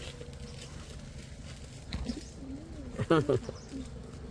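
A bird calls at the Hari Krishna Sarovar lake at sunset. A few dove-like coos rise briefly over a quiet outdoor backdrop, and the clearest burst comes about three seconds in.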